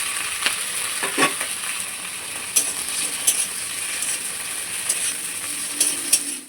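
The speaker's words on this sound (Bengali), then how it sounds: "চেরা কাঁচা লঙ্কা, পেঁয়াজটা একটু ভেজে নেব।" Sliced onion and slit green chillies fry in a pan with chopped tomato, a steady soft sizzle punctuated by scattered scraping clicks of stirring, moderately close with no talk.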